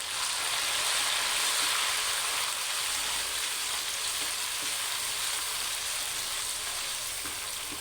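Tomatoes and chilies fry with browned onions and ginger garlic paste in a pan for a mixed vegetable curry, giving a steady, loud, close sizzle throughout with no talking.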